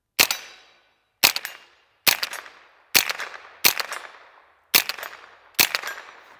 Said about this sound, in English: So I'm just shooting some CCI mini mags here.